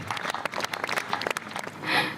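More than 2000 mourners holding white roses applaud at a memorial gathering, scattered claps blending into a fuller burst of applause near the end.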